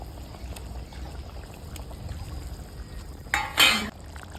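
Paste-tinted water is poured into a boiling pan for a fish roe curry, a short sharp splash and hiss near the end after a quiet stretch of background room noise.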